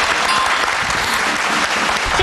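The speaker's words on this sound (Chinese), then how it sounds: "来，我们给他掌声鼓励一下。" A TV studio audience bursts into dense, steady clapping that fills the room, loud and close, with no voice on top.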